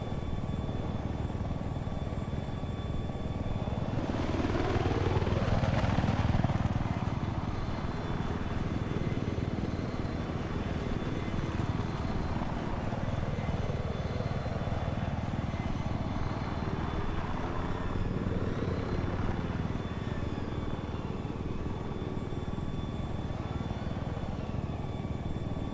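A helicopter hovers in the game Battlefield 4, its rotor and turbine making a steady, loud whirring drone with a faint high whine, swelling in pitch and volume a few times as it holds position.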